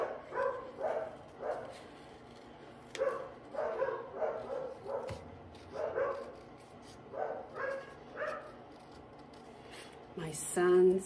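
Dogs bark repeatedly at someone within view outside, a series of moderate, slightly distant yaps and woofs in uneven bursts, with a short clatter near the end.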